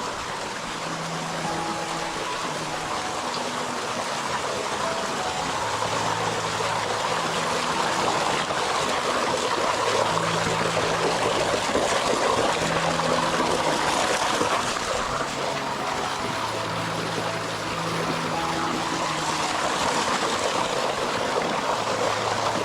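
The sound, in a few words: waterfall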